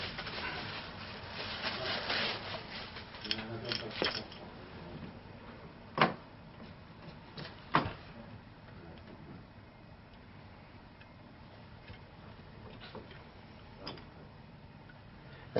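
Ignition coil from a Jeep Cherokee sparking on a tester in a workshop, giving faint, irregular sharp ticks and snaps with a couple of louder cracks over a low background hiss, no voices.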